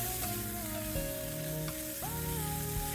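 Steady, crackling sizzle of a tomahawk steak searing over hot coals in a Weber Summit Kamado, close and continuous, with faint tonal sounds underneath.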